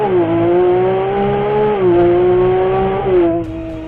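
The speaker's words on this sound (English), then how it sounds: "let's try to make an acceleration and listen to the sound of the" A Ferrari 296 GTB sports car engine revs up under acceleration, its tone climbing and dropping through gear changes, loud and close, then easing off.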